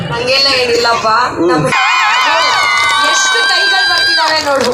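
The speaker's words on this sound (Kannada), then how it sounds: "ಈಗ ಮಕ್ಕಳು ಚಪ್ಪಾಳೆ ಎಲ್ಲ ಸೌಂಡೇ ಕೊಡ್ತಾರೆ" Children cheer and shout together as a loud crowd of young voices at an indoor event, with a burst of sustained squealing and hollering in the second half.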